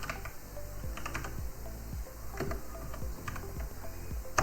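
Rapid, steady clicking of a computer keyboard as a sudo apt command is typed on an Ubuntu server, close and continuous over a constant background hiss.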